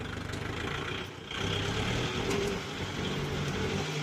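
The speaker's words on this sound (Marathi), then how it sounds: "आयडियल रेसला होता तरी ट्रॅक्टर ओढतोय." Steady, rumbling Kubota MU5502 tractor engine idling close by, a continuous low drone with a brief dip in level about a second in.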